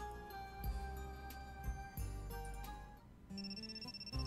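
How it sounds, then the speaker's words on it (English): A phone call ringtone from the video game Princess Maker 5, a bright tonal melody that repeats steadily over game background music for several seconds, fairly clear and alone with no talking. "Oh, we got a phone call, dude."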